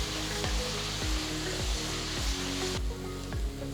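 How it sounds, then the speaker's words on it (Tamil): Steady, loud sizzling of onions frying to golden brown in a hot pan, with periodic scraping thumps as they are stirred. "வெங்காயத்தை நல்ல கோல்டன் ப்ரௌன் கலருக்கு வதக்குங்க."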